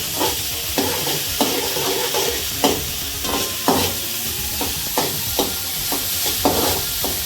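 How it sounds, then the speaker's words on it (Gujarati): Tomatoes fry in a pan for instant noodles, with a steady loud sizzle and regular scraping stirring strokes about every half second. "આપણે ટમેટા નાખી દઈએ. હલાવી નાખીએ."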